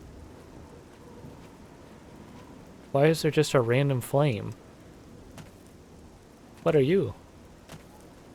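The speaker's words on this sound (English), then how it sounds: "Nice rain and thunder sound, I like it." Steady rain with low thunder rumbling in the fantasy game Oblivion, a soft constant wash running underneath two short bursts of someone talking.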